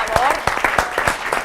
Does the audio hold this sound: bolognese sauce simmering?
no